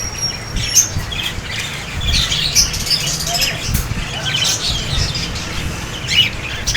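Cockatiel parrots call with sharp repeated squawks and chirps inside a bird shop, close and busy over a low background rumble, with someone talking among the calls.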